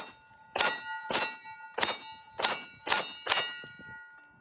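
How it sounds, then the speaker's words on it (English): Six 9mm pistol rounds striking half-inch AR500 steel targets, each a sharp ringing clang with a sustained metallic tone, spaced roughly half a second apart, clear and distinct with no talk. "we're going to start with 9mm, and it is out of a 5-inch barrel to make sure we get optimal velocity to see how these targets hold up"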